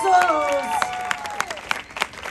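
A crowd applauds with scattered claps that thin out, following a sustained tone that slides downward.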